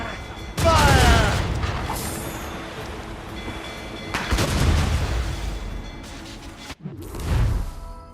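Ship cannons firing in Assassin's Creed Rogue during a naval battle: heavy booming volleys in two or three bursts with long rumbling tails, mixed with game voices and sea ambience.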